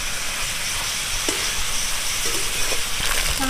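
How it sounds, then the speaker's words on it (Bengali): Chhana, a fresh cottage cheese, fries in hot oil in a kadai with a steady, close sizzle and a few faint utensil clicks, with no talk. "ছানাটাকে আমি ভেজে নেবো,"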